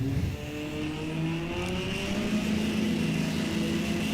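A drag race car engine, an '86 Charger or a Camaro, roaring steadily at the strip during a launch, with the pitch climbing and a heavy, continuous rumble.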